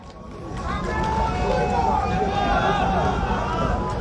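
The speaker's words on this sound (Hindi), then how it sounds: "एक बार जोरदार तालियों के साथ उनका हौसला अफजाई।" A crowd at a political protest rally in Ajmer breaks into sustained applause, a thick, even roar of clapping swelling in after a brief lead-in and holding steady to the end.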